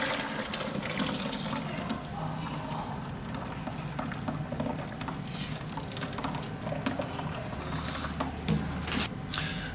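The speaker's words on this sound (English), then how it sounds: "Pour in the rest of your ice cream mix." Ice cream mix is poured into a pump-fed ice cream machine, giving a steady, faint liquid splashing with small clicks and knocks mixed in and no voices.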